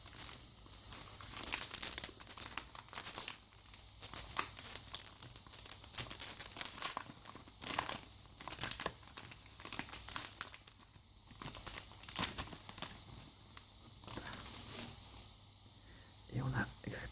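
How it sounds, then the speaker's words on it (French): A foil wrapper on a Kira Collection trading card booster pack crinkles and tears as it is opened, in close, continuous rustling with crisp bursts, while a voice talks quietly over it. "On va ouvrir le deuxième booster."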